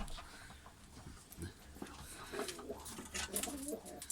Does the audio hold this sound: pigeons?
yes